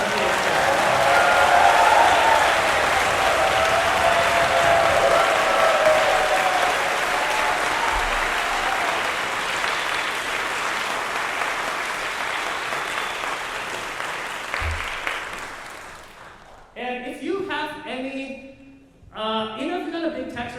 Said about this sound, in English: can we give a big round of applause to all the musicians?